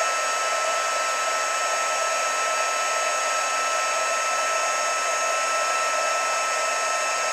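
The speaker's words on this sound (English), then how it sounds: "We're going to do that magical heat embossing technique. So we'll melt that." A handheld heat embossing tool blows hot air steadily to melt embossing powder on a watercolor craft project, a loud, continuous, even whoosh held unbroken throughout with no talking.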